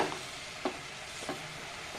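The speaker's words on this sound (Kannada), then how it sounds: "ಈಗ ಹರವೆ ಸೊಪ್ಪನ್ನು ಸ್ವಲ್ಪ ಮಿಕ್ಸ್ ಮಾಡೋಣ ಈರುಳ್ಳಿ ಮತ್ತು ಬೆಳ್ಳುಳ್ಳಿ ಜೊತೆ." Chopped amaranth greens with onion and garlic are stirred in a pan over a quiet sizzle, with three soft scraping strokes spaced about half a second apart; no one speaks.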